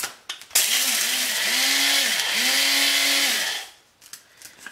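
A blender motor whirs loudly for about three seconds as it grinds crushed eggshells into a fine powder, its pitch dipping briefly once partway through, with no voices over it.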